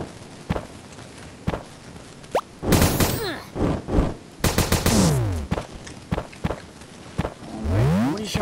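Gun firing shots in the video game Starbound, a run of sharp, punchy synthetic blasts and bursts with sweeping zaps, irregular and loud, close up, with no voices.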